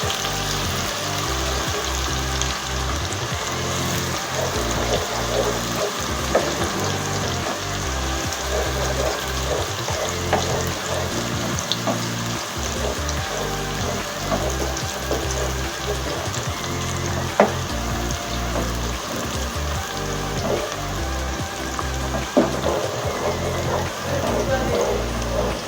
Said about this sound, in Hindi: स्लो फ्लेम पे इसको ब्राउन करेंगे